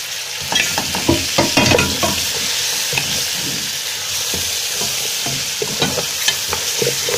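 A spoon stirs beef trotters in a pot with onion as they cook. Close scraping and clinking strokes come through in uneven bursts over a steady sizzle, with no talking.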